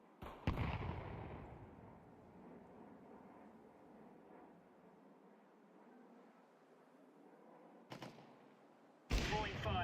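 A grenade detonates in Counter-Strike 2 with a sharp loud burst, followed by a long fading rumbling tail, then two more sharp blasts near the end.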